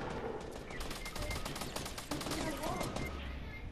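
Rapid bursts of automatic gunfire in a Fortnite squads battle, dense and continuous with overlapping shots, voices faintly present underneath.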